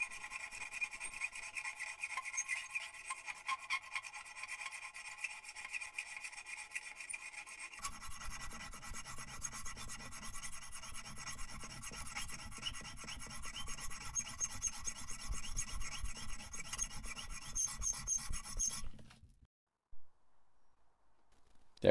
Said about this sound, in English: I'm going to file it out so I can take out the grinder marks